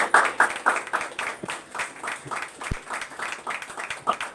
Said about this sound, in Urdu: یسوع کے جلال کے لیے تالیاں بجائیں